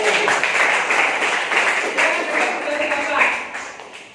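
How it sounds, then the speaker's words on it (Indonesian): Group applause from adult participants in a game session at a pesantren, broad steady clapping across the clip with voices mixed in, tapering near the end. "Tepuk tangan dulu dong."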